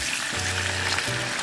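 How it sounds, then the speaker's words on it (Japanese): Seasoning liquid hitting hot, burnt caramel in a pan for a seafood-pork-bone tsukemen broth, sizzling loudly and steadily throughout with a constant close hiss, no voices. "調味液を加えたら沸騰するまで時折混ぜながら加熱してください"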